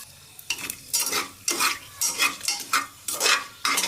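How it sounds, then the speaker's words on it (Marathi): Whole spices such as cloves, cinnamon and bay leaf crackle and sizzle in hot oil inside a pressure cooker, with close, repeated bursts of frying noise and stirring, no voices. "तेल गरम झालेलं आहे, त्याच्यामध्ये आपण आपले खडे मसाले टाकूया।"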